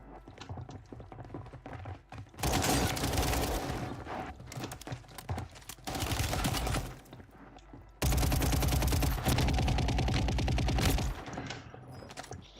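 Rapid bursts of gunfire in an online multiplayer shooter, loud sustained volleys of automatic fire broken by quieter gaps with scattered single shots.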